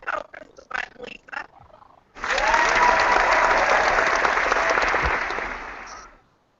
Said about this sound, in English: Can we get some hand claps